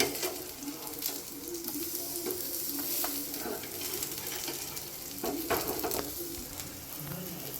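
Crispy paneer cutlets fry on a tawa, giving a continuous close sizzle while a spatula scrapes and flips them over with intermittent taps, no speech.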